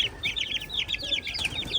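An Aseel hen clucking in quick repeated bursts alongside a brief flutter of wings, fairly close but soft, with no talk over it.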